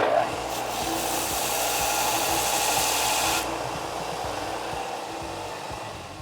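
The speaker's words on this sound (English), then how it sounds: "I'm putting it on the grinder." Bench or angle grinder grinding a large steel burr off a part while building an electric go-kart, a loud steady abrasive whine that drops in intensity partway through and continues alone.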